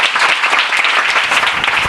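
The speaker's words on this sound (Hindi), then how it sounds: "ताली बजाओ ना प्रभु के लिए" A Hindi church congregation claps during a sermon, loud and steady with dense overlapping hand claps filling the space throughout.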